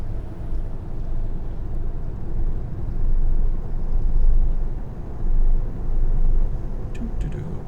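Kenworth truck engine in American Truck Simulator, a steady low diesel rumble that swells and eases gently while driving, with faint light clicks near the end.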